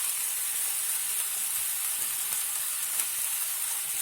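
Spices, chili powder and ginger-garlic paste frying in a pan for a chicken bun shawarma, giving a steady, bright sizzling hiss that holds evenly throughout without breaks.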